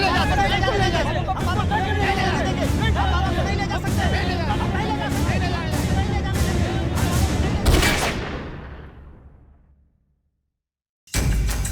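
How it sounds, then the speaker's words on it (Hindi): A gunshot fired into the air amid a crowd in a staged crime drama cracks out over loud crowd babble and shouting, followed by a fade to silence and a sudden return of noise. "अगली गोली हवा में नहीं चलेगी"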